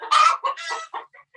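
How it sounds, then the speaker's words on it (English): A broody hen clucks and grumbles in a straw-lined nesting box, giving a loud burst of close agitated clucks followed by several shorter, fading mutters. "I think that right here, this is our broody hen"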